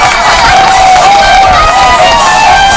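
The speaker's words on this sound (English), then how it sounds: "Thomas listened to the children, laughing and cheering." Loud, dense cheering and shouting from a crowd of children, continuous and close, with excited voices blending together throughout.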